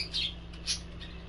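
A pet bird indoors gives two short, high chirps close together, the second a little stronger, over a steady low room hum with no talking.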